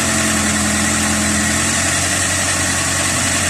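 A CAT 307C excavator's diesel engine idles steadily after starting, a loud, even, close drone with a low rumble that holds constant for the whole stretch, with no talk.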